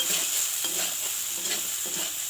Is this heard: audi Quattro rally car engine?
no